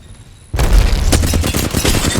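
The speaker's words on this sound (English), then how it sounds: "I'm gonna use my nades at the choke point so they don't push." Grenade explosions in the video game Apex Legends. A sudden loud boom breaks in after a quiet moment, then a dense, rumbling run of blasts and crackling gunfire-like bursts follows.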